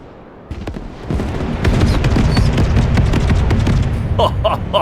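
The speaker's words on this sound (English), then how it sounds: "It's missiles, guns." Missiles and guns fire in the video game Broken Arrow, a dense rolling barrage of booms and crackling shots that builds after a quiet start and stays loud throughout, with sharp bright bursts near the end.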